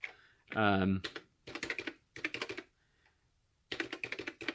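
Keys clatter on a Brother EP5 thermal typewriter in three quick bursts of crisp clicks after a brief voice at the start, close and fairly quiet.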